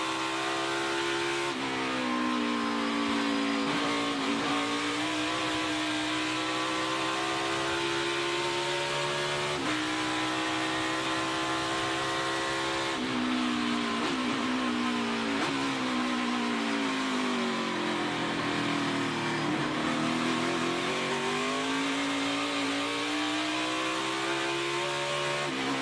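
Justin Haley's race car engine revs hard through a long corner at the 2020 Henry 180 road race, the roaring, buzzing tone rising and dipping as the throttle is feathered, loud and continuous with no break.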